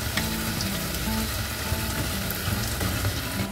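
Steady, loud sizzling of banana fritters frying in hot oil with white sugar added, a continuous crackle with faint clinks and a low hum underneath.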